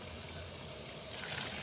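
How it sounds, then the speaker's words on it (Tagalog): Water pours from a pot of cooked pasta being drained, a steady close splashing rush that grows a little louder toward the end, with no talk. "Dito na drain na natin ang tubig."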